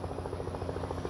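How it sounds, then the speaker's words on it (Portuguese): A Navy helicopter arrives over the Transpantaneira road in the Pantanal, its rotor producing a steady rhythmic thumping chop at moderate distance, fairly faint and continuous. "o helicóptero da Marinha chegando"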